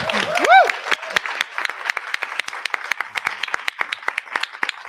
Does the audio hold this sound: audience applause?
yes